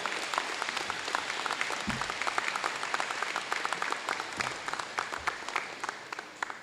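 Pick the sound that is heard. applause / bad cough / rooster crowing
applause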